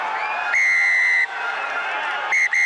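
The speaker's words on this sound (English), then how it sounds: "A loud blast on the referee's whistle, Damien Murphy." A referee's whistle blasts loudly at an England v Scotland under-20 rugby match, one long shrill blow followed by two short ones, over a steady murmur of the stadium crowd.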